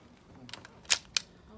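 A Viper pistol fires two sharp, close shots in quick succession at an outdoor shooting session, with a faint click just before them.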